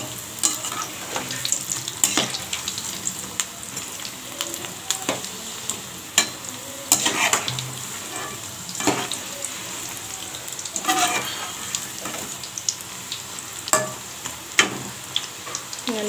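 Soya chunk bondas fry in hot oil, a continuous close crackling sizzle with scattered sharp pops and an occasional utensil clink, no one speaking.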